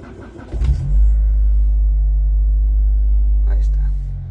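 A car engine, just fitted with a repaired alternator, starts with a short crank and settles into a loud, steady low idle rumble that continues unbroken, with faint voice traces near the start.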